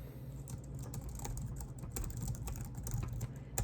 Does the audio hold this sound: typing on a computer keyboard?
yes